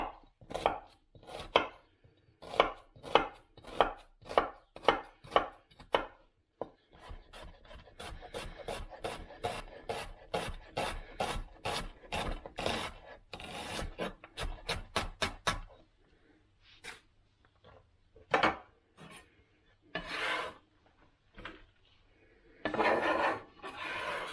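Knife dicing onions on a wooden cutting board, first in a slow series of distinct close chops, then a fast rapid run of rhythmic taps, then scattered pauses and a final burst of scraping.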